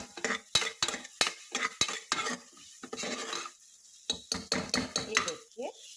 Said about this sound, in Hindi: इसको थोड़ा सा फ्राई कर लेंगे, मिक्स कर ले, ज़्यादा नहीं तो मसाले जल जाएंगे। थोड़ा सा घुमा लीजिए।